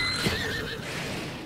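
A horse from Zelda: Breath of the Wild gives a short, bright whinny near the start, then trails off into a soft wash of game ambience with no voices.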